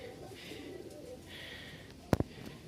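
Low, soft pigeon coos come in a few gentle rounds under quiet background noise, with a brief sharp knock near the end.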